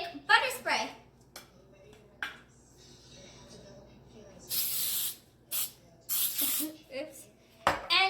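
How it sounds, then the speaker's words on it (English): Non-stick butter spray hisses onto a baking pan for brownies in several sharp bursts, two of them longer, loud and close. Speech is heard between the bursts. "We gotta spray our pan with non-stick butter spray."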